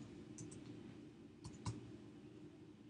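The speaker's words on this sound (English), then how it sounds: "So I call up Shortcat with the keyboard shortcut." Keys on a computer keyboard pressed for a shortcut: a couple of faint, quick clicks close together, with softer ticks just before, over a quiet room hiss.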